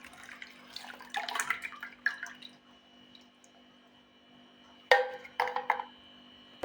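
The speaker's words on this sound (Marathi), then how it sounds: "बस अजून पाणी टाकू आपण" Water poured into strained raw mango panha, a soft splashing trickle in two bursts separated by a quiet pause, faint and close, with no talking.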